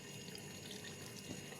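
Water poured steadily into simmering mutton qorma gravy in a cooking pot, a continuous close splashing, trickling rush with no voices.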